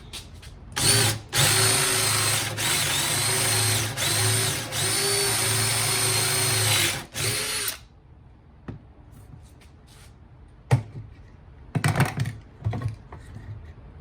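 A drill fitted with a hole saw bores into wood with a loud, steady grinding whir for several seconds, then stops, followed by scattered clicks and knocks of handling.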